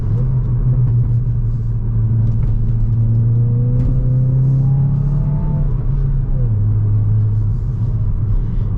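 A car engine idling steadily while warming up before drag-style acceleration runs, a continuous loud low rumble with a brief rise in pitch midway as if lightly revved, then settling back.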